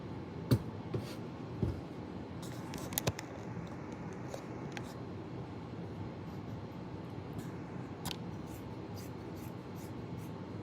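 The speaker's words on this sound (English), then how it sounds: "you can just run your scissors up the side" Faint, sparse snips and light clicks of scissors cutting up the side of a T-shirt for a quilt, over a steady low background hum.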